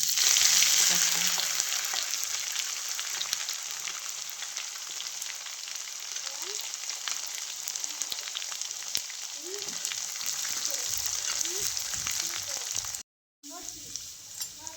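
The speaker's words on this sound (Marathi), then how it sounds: "आता फोडणीमध्ये थोडीशी हळद आणि काळा तिखट" Hot oil crackles and sizzles steadily in a spice tempering with cumin, a close, continuous frying hiss with occasional stirring taps and a short gap near the end.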